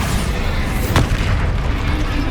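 Bombarda spell blast in Hogwarts Legacy, a single sharp burst near the middle over a dense, loud rumbling game backdrop.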